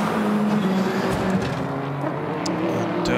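Race cars roar around the Circuit of the Americas during the 2016 FIA WEC 6 Hours of COTA endurance race as a Ford pulls back onto the pit apron. Engine noise is loud, steady and dense throughout, with no break.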